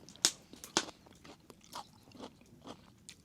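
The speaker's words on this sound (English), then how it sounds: "Pepper's nice and crunchy." Crunchy pepper pieces bitten and chewed at a bushcraft camp, a few sharp, close crunches near the start, then softer intermittent chewing sounds, quiet with no talking.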